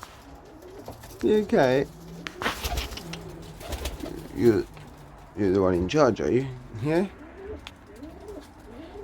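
Pigeons, including black hens and a cock, coo softly in a loft while a person talks to them in between, the low birds' calls sitting under and between the speech.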